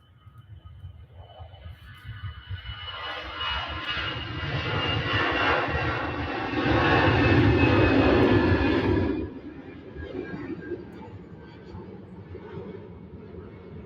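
Airliner engines roar at Manchester Airport, a loud, steady jet rumble that swells to a peak midway and then drops off sharply, fading to a lower drone, with faint voices in the background.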